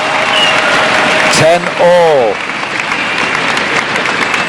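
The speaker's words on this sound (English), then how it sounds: "the crowd's urging him on" Crowd at a badminton world championship men's singles final in Madrid cheering and applauding steadily throughout, a broad wash of clapping with a commentator speaking briefly over it.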